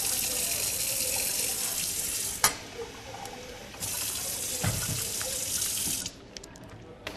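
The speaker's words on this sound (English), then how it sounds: "Did you want that tap on?" Tap water runs steadily into a sink in a house kitchen, a close hissing gush that drops off briefly and resumes, with a few clinks and handling knocks and no talk.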